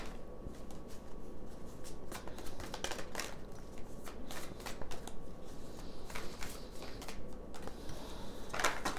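Tarot cards are shuffled in quick riffling bursts, close and crisp, with some cards flicking loose near the end.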